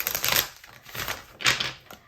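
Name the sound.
shuffling a tarot card deck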